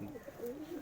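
A Kaldama pigeon gives a single short, soft coo, faint and close, lasting under a second.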